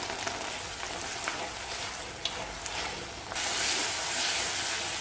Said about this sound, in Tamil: இந்த தக்காளியவும் இதிலே சேர்த்து வதக்கிக்கணும்